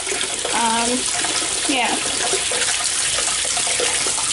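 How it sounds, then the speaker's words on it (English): Cold tap water runs steadily over an onion for a slow-cooked pork loin, a constant close broadband rush throughout, with a brief spoken word and some talk near the start. "if you run your onion underneath super cold water, let it chill there for a little while"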